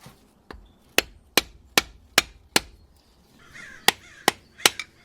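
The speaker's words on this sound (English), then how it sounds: "Use a bigger hammer. Bigger hammer is gonna make the job much faster." Sharp metallic hammer blows on a third-generation Toyota Tacoma CV axle ring out one after another, about nine strikes at a steady pace, close and loud.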